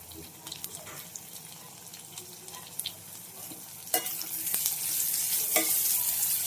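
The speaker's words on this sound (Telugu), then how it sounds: "కొంచెం వేయిద్దాం ఈ ఆనియన్స్ వేగాయండి" Onions fry in a pan with a steady sizzle and intermittent scraping and clatter of stirring, growing louder and denser toward the end.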